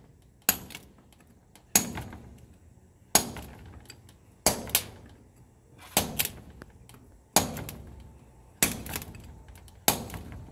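A hammer drives a chisel into a large geode in eight sharp, evenly spaced metallic strikes about every second and a quarter, close and loud, each with a short ringing tail, and no talking.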